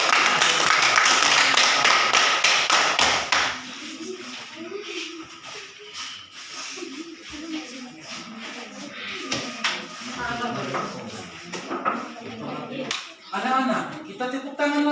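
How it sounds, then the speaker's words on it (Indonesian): Children in a remote classroom in Amfoang Tengah clap for a student group, a dense burst of fast applause for a few seconds that thins into scattered claps, taps and shuffling under children's voices. "Tepuk tangan dulu untuk kelompok 4."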